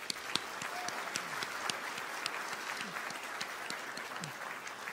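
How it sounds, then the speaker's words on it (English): Steady applause from a luncheon audience at an awards event, continuous and moderately loud across the whole stretch with scattered sharper claps standing out. "Please, applause."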